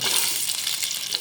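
Steady, bright sizzling of chopped garlic frying in hot oil for mutton karahi, close up and continuous, with a faint stirring scrape and no voices.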